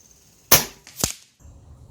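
A single sharp shot from an FX Wildcat .22 calibre air rifle with a 700 mm barrel, a crisp close crack followed about half a second later by a second sharp snap, likely the pellet striking a distant target.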